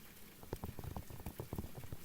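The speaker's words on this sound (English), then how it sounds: "water sounds." Soft, rain-like water sounds in a quiet ASMR setting: a close, gentle patter of irregular drips and taps that is faint, steady and free of speech.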